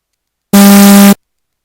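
A harmonic complex tone built on a 200 Hz fundamental with harmonics at 400, 600 and 800 Hz, each 6 decibels quieter than the one before, sounds as a single loud, steady buzzy beep of about half a second between silences.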